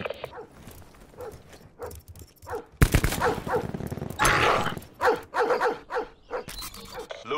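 A dog in the Black Ops 4 beta video game barks and growls in repeated sharp bursts, loud and close, with gunfire-like bangs mixed in.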